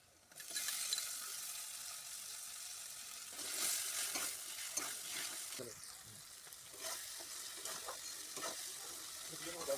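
Chopped tomato hitting hot oil with spices for a Bengali chicken curry, a steady broad sizzle with scraping stirring strokes and small clatters from the pan throughout, fairly close and with no voices.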